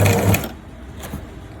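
A domestic sewing machine stitching a buttonhole runs in a short loud burst of rapid stitches, then stops, leaving a quieter room hum with faint clicks.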